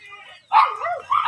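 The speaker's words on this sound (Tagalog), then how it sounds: "yung mga aso kong yan" Dogs give a couple of short, close barks in quick succession, loud against a quiet background.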